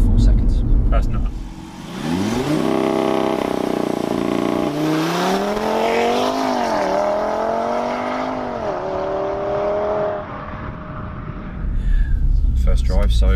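Audi RS3 launching hard from standstill on a warm, grippy road, engine note climbing steeply through the gears in a loud, sustained rising roar that drops away after about ten seconds, with the car's interior perspective close up.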